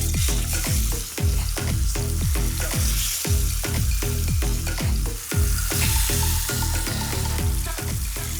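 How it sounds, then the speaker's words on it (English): Figs sizzling with sugar in a hot pan, a loud, continuous frying crackle with repeated stirring scrapes and sputters in a steady rhythm, heard close and alone without talk. "let's get these figs into the same pan"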